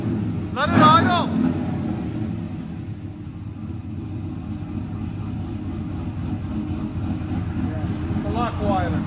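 A cammed Chevy 5.3L V8 with headers and a true dual exhaust idles with a steady, heavy low rumble throughout, while a voice briefly talks over it near the start and again at the end.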